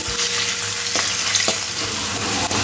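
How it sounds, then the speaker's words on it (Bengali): Chopped garlic and ginger sizzle loudly in hot oil, a dense continuous hiss with a few sharp stirring clicks. "রসুন আর আদাটা খুব ভালো করে একটু ভেজে নিতে হবে।"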